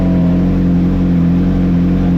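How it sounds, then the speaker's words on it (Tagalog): Suzuki GSX-R 1000 R motorcycle engine idling right after starting, a loud, steady low hum with constant tonal drone close by and no talking. "start na yung motor natin"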